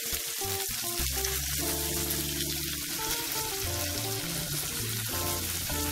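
Mussels and small cuttlefish sizzle in a paella pan for a seafood paella, a loud continuous frying hiss with bubbling and occasional stirring, close up and without talk.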